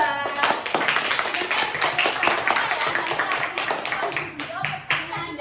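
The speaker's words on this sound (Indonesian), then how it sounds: "Tepuk tangan dulu untuk kelompok 2." A classroom of Indonesian schoolchildren claps for a student group during a recycling lesson, a fairly close, uneven patter of hands that thins out toward the end.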